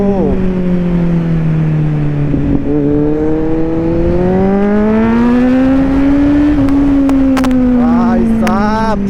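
A black Kawasaki Z900 motorcycle riding along an empty road, its engine loud and close as it revs up through rising gears, drops briefly, then climbs again with quick shifts near the end.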